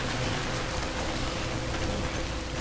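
Rain falls in the video game Death Stranding, a dense, uniform hiss of drops spread across the scene, steady and fairly loud throughout with no voices.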